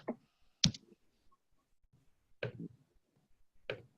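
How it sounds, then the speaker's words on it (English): Computer mouse clicks during an online meeting, four sharp isolated clicks spaced irregularly, close and crisp against near silence. "Are you clicking on share screen at the bottom?"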